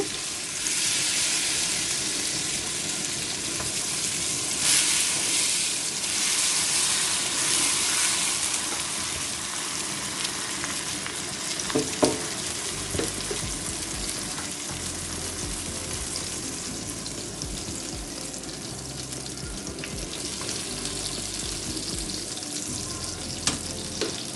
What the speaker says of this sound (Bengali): আমি ব্রেডগুলোকে বাটারে ভেজে নিচ্ছি